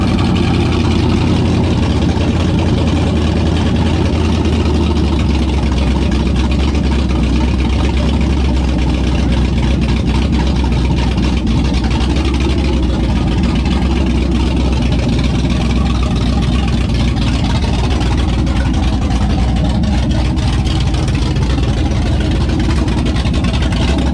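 A 1965 Ford Mustang engine running steadily after starting, a loud continuous low rumble that holds evenly throughout with no talk over it.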